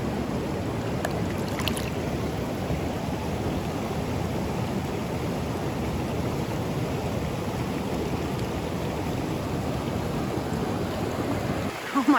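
A river rushes steadily beside a campsite, with a constant, fairly loud broadband wash of flowing water that persists without a break.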